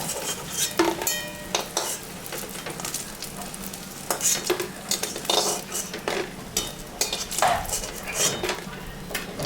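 Fried pumpkin slices being lifted from a sizzling pan, with repeated sharp metal scrapes and clinks of a utensil against the pan over a steady frying hiss, close and fairly loud, without talk.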